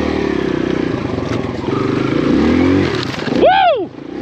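A lightweight 4-stroke full-size-wheel dirt bike engine drones steadily through a wet trail, close and loud, rising as it climbs, with a sharp revving sweep near the end.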